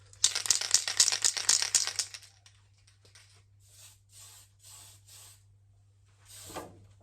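A spray paint can hisses onto an RC replica MK2 Escort RS2000 body, first with a loud rattling shake of the can, then five short, quieter bursts of spray, up close with no talk.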